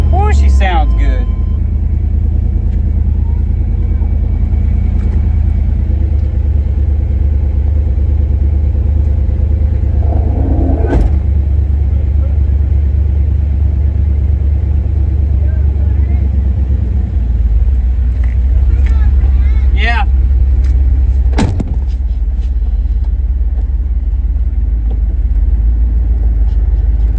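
A truck, bought the same day and later suffering a blown engine, idles after a jump-start with a loud, steady low rumble and a few sharp knocks, while people talk nearby.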